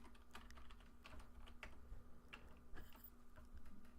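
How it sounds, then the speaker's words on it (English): Name typed on a computer keyboard in Internet Explorer, a soft run of scattered key taps over a steady low hum, close and moderately quiet with no talk. "We'll type in his name."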